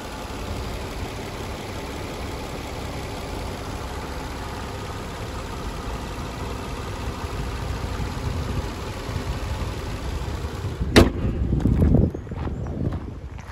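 A 2011 Nissan Maxima SV with the sport package and its 3.5-liter V6 at idle, a quiet, steady low hum close by, then a sharp click and brief louder handling noises near the end.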